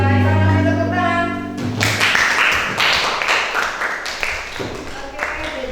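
A classroom applauds the winners of a quiz, with a dense burst of clapping rising after a brief voice at the start and continuing steadily at moderate loudness.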